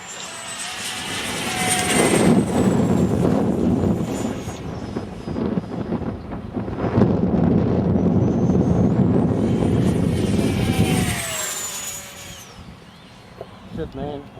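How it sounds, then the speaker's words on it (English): Aeroplane passing overhead on a windy day, a loud roaring swell that rises, fades briefly and surges again with whining engine tones, buffeted by wind noise, with people talking. "An aeroplane."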